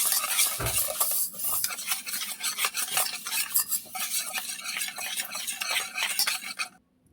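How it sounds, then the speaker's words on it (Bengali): Egg and sugar are beaten in a bowl with fast, steady clinking and scraping strokes of a utensil against the bowl, close and continuous, stopping abruptly at the end, with no speech. "এই বাটির হাফ বাটি আমি চিনি নিয়ে নিয়েছি। এটাকে ভালো করে আমি ফেটে নেব।"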